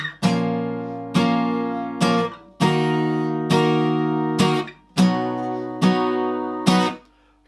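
Electric guitar strumming barre chords from a song, with seven evenly spaced, ringing strums and no voice over them.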